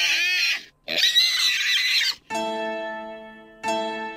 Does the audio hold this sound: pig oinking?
yes